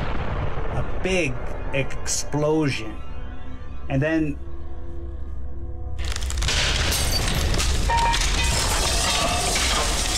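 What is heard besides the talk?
big explosion blowing in a wall, tabletop game sound effect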